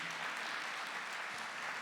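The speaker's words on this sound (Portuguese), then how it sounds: "aplauda você que veio para a Canção Nova nesse final de semana" A congregation at a Catholic gathering claps together, a soft, continuous patter heard at some distance with no talking over it.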